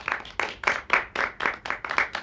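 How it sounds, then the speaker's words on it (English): A small group claps in a brief, loud round of applause on a fitness talk show, about ten distinct close claps in quick irregular rhythm with no talking. "Round of applause for a good question."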